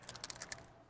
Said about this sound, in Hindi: ये चाबी लगाई और ये घुमाई, अब ये लॉक हो गया।